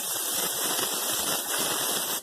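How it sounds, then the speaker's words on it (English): A continuous close hiss of cooking oil spray into a pan, steady and fairly loud, cutting off abruptly at the very end. "It says to spray it with some spray oil"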